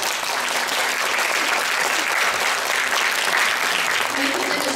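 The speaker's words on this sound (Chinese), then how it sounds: "我们给予最大的掌声好吧" Steady, continuous applause from a small audience at the 2015 cultural and creative industry news reporting award ceremony, sustained for several seconds without pause.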